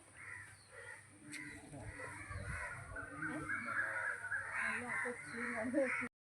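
Crows cawing repeatedly in the open, harsh calls overlapping with other birds, while a person talks nearby.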